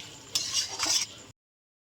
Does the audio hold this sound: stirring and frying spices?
yes